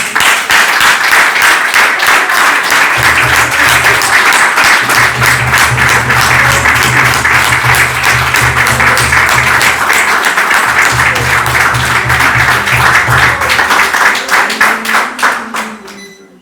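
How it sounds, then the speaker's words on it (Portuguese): A church congregation at an Easter Sunday celebration breaks into loud, dense applause that holds strong for about fourteen seconds, with a low hum underneath, before fading out at the end. "Jesus merece uma salva de palmas mais forte"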